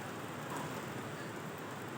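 Heavy typhoon rain at the Marikina River, a dense, steady roar of downpour filling the whole stretch with no pauses and no voices.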